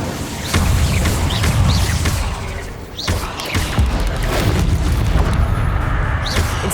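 The Incendio fire spell is cast repeatedly against spiders in a loft in Hogwarts Legacy, producing booming, whooshing fire bursts at close range with several loud blasts.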